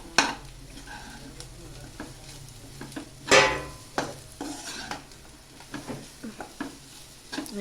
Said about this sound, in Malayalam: പിടിച്ചൊന്ന് മസാല മൊത്തവും എല്ലായിടത്തും വരുന്ന രീതിയിൽ ഇളക്കുക.